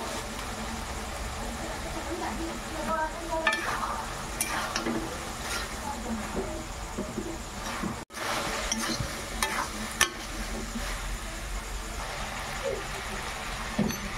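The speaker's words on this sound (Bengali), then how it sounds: "এটাকেও ভালো মতো কষিয়ে নেব।" Chana masala being stirred and sautéed in a pan, with a steady low sizzle and the scrape of a spatula recurring throughout. The frying is moderate in level and close, with no talking.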